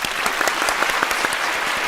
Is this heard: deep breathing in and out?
no